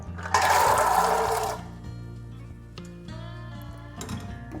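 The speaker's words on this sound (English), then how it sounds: "Adding a bit more filtered water." Filtered water gushes and splashes briefly into a pot holding chickpeas, then trails off into quieter trickling over a steady low hum.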